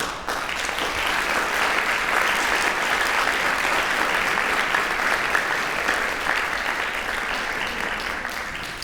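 A lecture-hall audience at the Louvre applauds steadily, a dense, sustained wash of clapping that holds at even loudness for about nine seconds and tapers only slightly at the end, with no talking over it.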